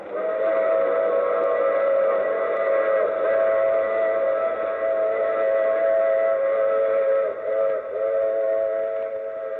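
A steam train whistle blows in a long, loud, sustained chord from a radio drama sound effect, holding steady with a brief dip near the end and no voices over it.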